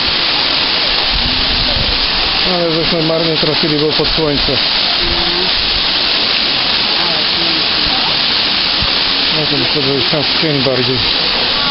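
Steady broadband rush of a mountain waterfall in the Karkonosze range, loud and continuous throughout, with someone talking over it nearby.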